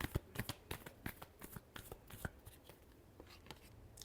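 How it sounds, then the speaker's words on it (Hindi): Tarot cards shuffled by hand in a quiet room, a steady run of soft, rapid riffling flutters and taps, close and alone with no voices. "Last shuffle."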